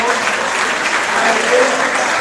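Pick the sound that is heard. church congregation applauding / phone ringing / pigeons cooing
church congregation applauding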